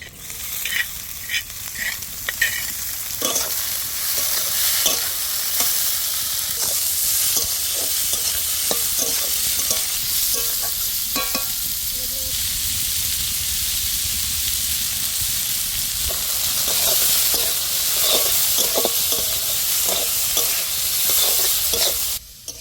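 Creeper greens with garlic and onion sizzle loudly in a pan, a continuous frying hiss broken by repeated scraping and knocking from stirring.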